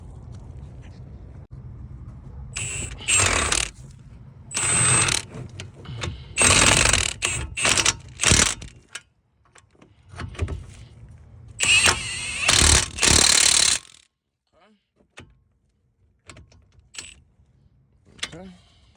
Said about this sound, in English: Now we just go ahead and tighten them up with our Milwaukee 1/2" impact.